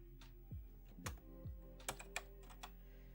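Typing on a computer keyboard during a mini arcade machine repair, a handful of separate faint key clicks spaced irregularly over a low steady electrical hum.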